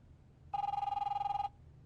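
A telephone in The Wolf Among Us game rings once with a bright, rapidly trilling electronic bell lasting about a second, alone over a low background hum.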